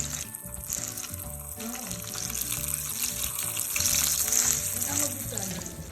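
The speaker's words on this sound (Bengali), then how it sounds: "তারপর বানানো হচ্ছে চিংড়ির বড়া, চিংড়ি দিয়ে বড়া বানানো" Shrimp fritters frying in a pan give off a steady, close sizzle and crackle throughout, with faint stirring and clinking over it.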